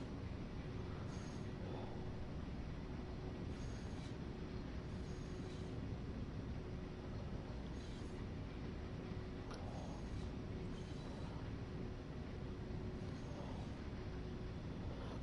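Train locomotive in Train Sim World 6 rumbling steadily as a heavy train slowly picks up speed, a continuous low engine drone with a faint steady tone and occasional soft clanks, no voices.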